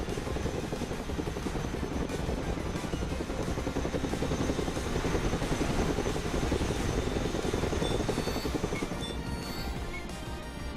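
Chinook helicopter in the video game Broken Arrow, a steady, loud rotor thrum with dense rhythmic chopping that holds throughout without voices.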